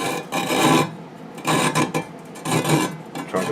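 A hand saw cuts across a 6013 welding rod to shorten it, producing four rasping back-and-forth strokes in an even rhythm, close and fairly loud with short pauses between.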